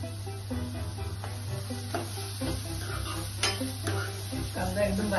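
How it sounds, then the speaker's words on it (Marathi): Finely chopped onion sautés in a pan with a low, steady sizzle, punctuated by repeated scrapes and taps of a spoon against the metal, close up with a faint background hum. "आता आपला कांदा परतूया।"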